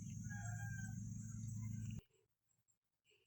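Chickens cluck and call near a night spearfishing camp on the Philippine shore under a loud low engine or generator drone, which cuts off abruptly, leaving faint scattered clucks in near silence.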